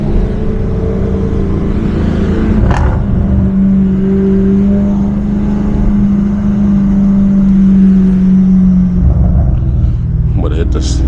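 A 640 HP BMW M550i drives at night, heard from inside as a loud, steady engine and exhaust drone with a deep rumble, holding a sustained note before easing off.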